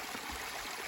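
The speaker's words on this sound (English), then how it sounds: "Here's Carolyn with her nice gravity-filled water coming from this beautiful spring down here." Gravity-fed water flowing steadily from a mountain spring beside a hiking trail, a close, continuous babbling trickle with no voices.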